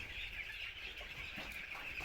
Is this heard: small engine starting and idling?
no